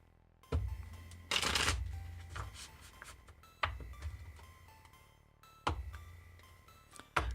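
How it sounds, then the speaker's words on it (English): Tarot cards being shuffled close up, a few short riffling bursts separated by pauses and soft handling noises, quiet and without talk. "Final cut, final shuffle."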